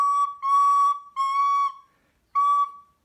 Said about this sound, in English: problem is something is leaking air. In this case, it was my thumb.